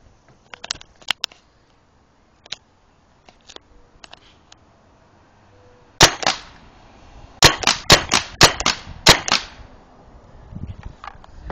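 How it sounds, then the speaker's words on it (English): Tippmann 98 Custom paintball marker firing outdoors at a target: a few scattered sharp pops, then a rapid burst of about eight loud cracking shots close by, with no talking. "I am here today with my video of the Tippmann 98 Custom shooting"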